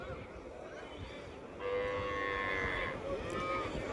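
A bull lets out a drawn-out moo at a bullock market in Anantapur over a steady murmur of outdoor crowd noise, fairly faint and somewhat distant.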